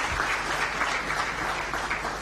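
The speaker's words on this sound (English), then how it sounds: "Another round of applause for Dr." Sustained audience applause at an awards ceremony for national integrity and service delivery, a steady dense wash of clapping from a full room with no gaps.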